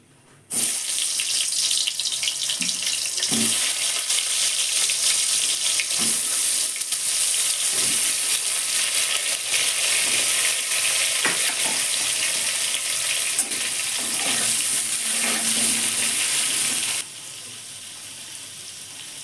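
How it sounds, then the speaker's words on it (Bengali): Potatoes fry in hot oil in a pan, giving a loud, dense, continuous sizzle heard close up, with occasional stirring knocks; the sizzle drops sharply near the end. "এবার আমি আলুগুলো ভেজে নেবো"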